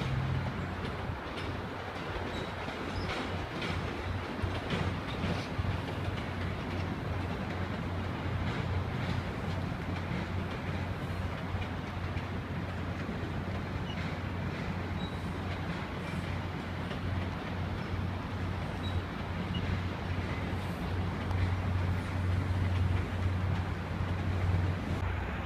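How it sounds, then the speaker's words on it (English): A continuous rumble of a train crossing a railroad bridge in Boston, with faint rhythmic clatter of wheels on rails, steady and moderately distant throughout. "Max, here's one more train going across this cool railroad bridge."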